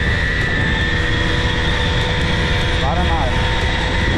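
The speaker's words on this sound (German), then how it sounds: "die Karre hört sich echt unnormal geil an." A Simson moped engine drones steadily and loudly throughout, a continuous buzzing hum with a brief rising warble near the end, during a chase.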